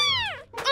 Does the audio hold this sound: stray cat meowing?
yes